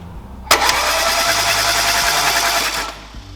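Peugeot 309 GTI, not started for 22 years, cranking on its starter in one continuous burst of about two and a half seconds, a loud steady churn that cuts off without the engine catching.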